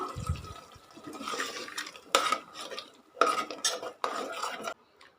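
A spoon stirs butter beans masala in a pot, giving several scraping, clinking strokes against the metal with short pauses between them and a wet, sloshing edge.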